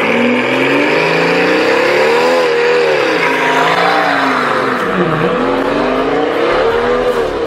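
Mercedes-AMG S65 with a turbocharged V12 revving hard, the engine note rising and falling through several sweeps, loud and close with no talk.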